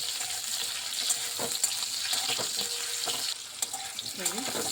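Potatoes frying in a pan, a soft continuous sizzle with occasional stirring clatter and scrapes, fairly quiet and close, with no one talking.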